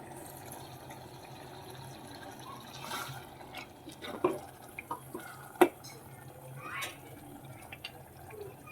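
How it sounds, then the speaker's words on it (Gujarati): Water is poured into a Kathiyawadi brinjal and fenugreek curry in a pressure cooker, giving a faint trickle with a few soft splashes and drips against a quiet kitchen background. "તો હવે આપણે પાણી એડ કરી દઈશું."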